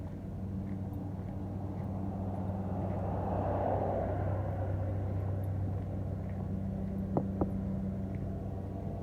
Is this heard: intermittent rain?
no